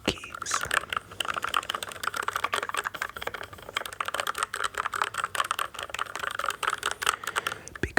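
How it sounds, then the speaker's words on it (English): Fingers lightly tap and click on computer keyboard keys in a close, quiet ASMR setting, a dense, steady patter of soft clacks with no talking. "when you just lightly tap on the keys."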